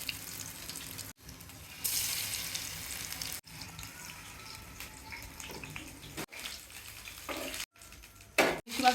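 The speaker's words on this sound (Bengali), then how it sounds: "আলুগুলো ভেজে নেওয়া হবে" Sliced potatoes frying in oil in a home kitchen pan, giving a steady soft sizzle with short breaks and a few clinks of stirring.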